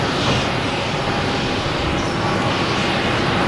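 A private Gulfstream jet at Boston Logan Airport gives a loud, steady engine roar and broadband rush, continuous and close for a few seconds with no voices.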